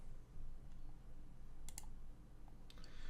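Quiet computer mouse clicks while saving in Unreal Engine 5, a couple of faint sharp clicks over low room hum with no talking.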